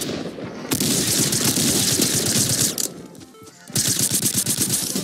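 Rapid bursts of automatic gunfire in the video game Fortnite, loud and dense, with a short pause before the shooting resumes.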